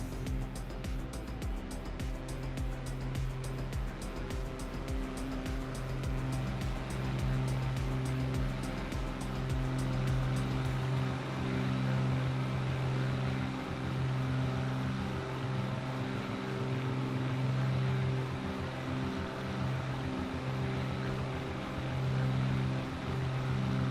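Twin piston engines of a Cessna 414 in Microsoft Flight Simulator 2020 drone steadily at cruise altitude, a loud, continuous, even hum with a faint ticking layer in the first half, and no voices.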